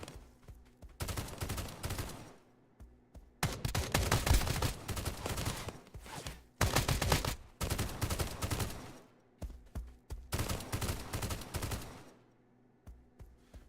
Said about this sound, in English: you don't want to be hit by any of his bullets